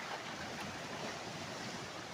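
Big ocean waves at sea roll and surge in a steady, loud wash of surf mixed with wind buffeting the microphone, with no voices.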